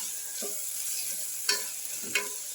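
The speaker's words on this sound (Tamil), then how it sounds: "இப்போ கொஞ்சம் இஞ்சி பூண்டு பேஸ்ட் போட்டிருக்கேன்." Ginger garlic paste fries quietly in a pan with a steady, faint sizzle. A utensil stirs and scrapes through it a couple of times, and nobody speaks.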